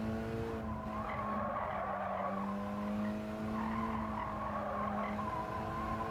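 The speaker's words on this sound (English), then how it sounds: "All the time those tyres are sliding sideways." Tyres squeal and skid sideways in a racing car in Gran Turismo 7 during an online Mitsubishi lobby race, with a steady sustained screech over continuous engine drone and no talking.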